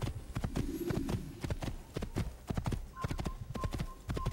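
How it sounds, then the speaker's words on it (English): Rapid clip-clop of horse hooves galloping in an Assassin's Creed game, a steady loud rhythmic pounding with a brief whinny early on, a voice speaking over it. "I'm just riding a horse."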